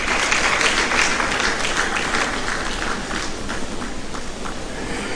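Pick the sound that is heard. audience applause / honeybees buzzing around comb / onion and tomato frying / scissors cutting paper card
audience applause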